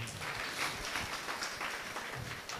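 Students in a school classroom clap together for a classmate, a dense, steady patter of many hands filling the room for a few seconds without pause.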